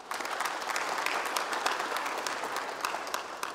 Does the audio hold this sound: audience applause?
yes